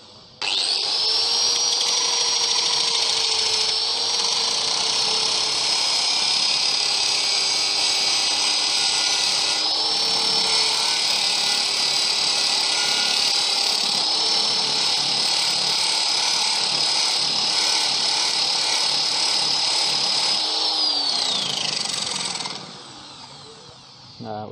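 Loud, steady whine of a power drill spinning a metal disc brake rotor piece at high speed, with a faint grinding edge. It runs continuously for about twenty seconds, then winds down.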